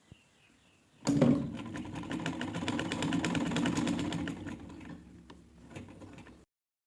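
Sewing machine stitching the back seam of a pair of trousers, a steady close mechanical whirring rattle that starts abruptly, runs for about five seconds with a slight slowdown near the end, then stops.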